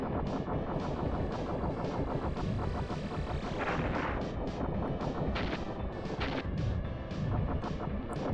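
Rapid laser fire from the Arwing blasting enemies in the SNES game Star Fox, a dense, steady volley of loud, crackling shots with bright bursts of impact over an energetic game soundtrack.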